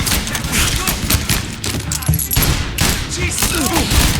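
A dense gunfight in the crime video game Mafia II: rapid overlapping shots and bursts of automatic fire rattle loudly and continuously, with shouted voices mixed into the barrage.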